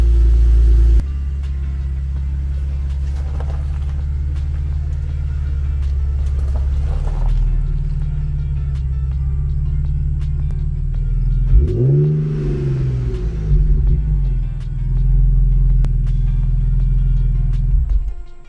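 A 2015 Infiniti Q50 engine idles with a deep rumble, then revs up sharply once mid-way before settling back to a steady low idle.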